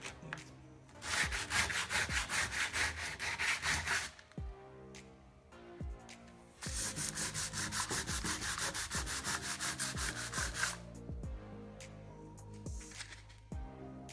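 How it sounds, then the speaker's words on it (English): Steady abrasive rubbing of sandpaper on wood, close and loud, in two long bursts separated by a brief pause with a few knocks. "I finished sanding"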